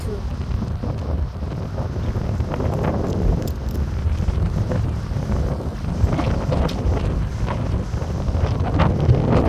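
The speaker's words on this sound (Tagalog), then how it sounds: "Mahangin." Strong wind beside Highway 412 in Siloam Springs, Arkansas roars and buffets the microphone continuously, a dense low rumble with gusty swells throughout.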